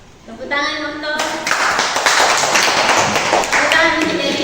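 Classroom audience clapping, dense and loud applause building quickly and holding steady for several seconds, with a voice speaking over the start.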